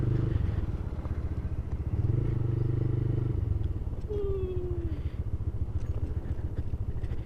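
A motorcycle rides along a rough, damaged road, its engine droning steadily and loudly throughout with a brief rising whine near the middle, no voices present.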